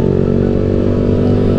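A motorcycle engine idles loud and close at a night market in Cameron Highlands as the rider parks, giving a steady throbbing rumble with no voices.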